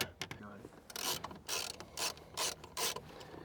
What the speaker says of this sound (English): just press in and it unclips from the plastic piece